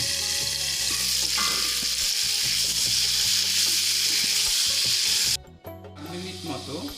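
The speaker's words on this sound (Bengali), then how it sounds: "মাঝে মাঝে ঢাকনা খুলে কিন্তু একটু নেড়ে দিতে হবে এরকম করে আমি তিন চার তিন মিনিট মতো এটাকে" Pumpkin and potato curry fries in a pan, a loud, close sizzle with stirring scrapes and knocks, until the sound suddenly thins as the lid comes off or the stirring stops, leaving softer crackling.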